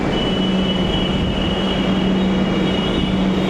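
Metro train at an empty end-of-line underground platform, a steady rumbling hum with a faint whine throughout, continuous and fairly loud, no voices.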